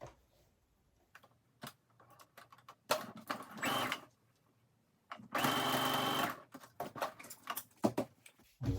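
Sewing machine stitching fabric for a pants side pocket, with short bursts and two longer runs of rapid mechanical stitching separated by pauses, handling clicks and fabric rustle.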